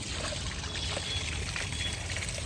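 Ice-cold meltwater from snowy mountains runs down in a close, continuous pour and trickle that stays fairly quiet throughout.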